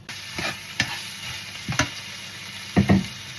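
A Filipino sautéed dish (ginisa) sizzles quietly in a pan, with a few soft knocks and stirring clatters from a utensil scattered across the steady frying hiss.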